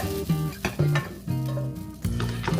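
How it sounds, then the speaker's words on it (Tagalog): Onions being sautéed in a pan for a Filipino-style dinner, sizzling in short bursts as they are stirred, with clinks of a utensil against the pan, close and moderately loud. "Mag-gisa na tayo ng sibuyas."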